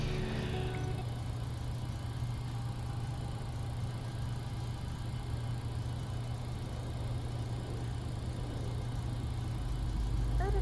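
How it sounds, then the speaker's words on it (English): Airliner engines spooling up in a flight simulator game, a steady low droning hum with constant mid-range whine that holds evenly and moderately loud throughout. "Start engine 2."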